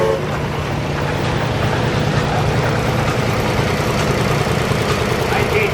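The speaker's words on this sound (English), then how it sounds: "Here we have a Canadian engine coming, a Waterloo engine." A Waterloo engine built in Waterloo, Ontario, Canada, running as it passes in an antique tractor parade at a threshermen's reunion, a steady loud low chugging drone with crowd and outdoor noise around it.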